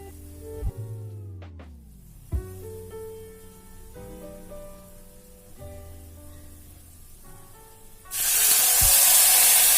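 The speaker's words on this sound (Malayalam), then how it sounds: "ഇനി ഇതിനകത്ത് നമ്മൾ 1 കപ്പ് പാലാണ് ആഡ് ചെയ്ത് കൊടുക്കേണ്ടത്." Milk is poured into a hot pan of roasted vermicelli, setting off a sudden, loud, steady hissing sizzle near the end, after several seconds of soft background music.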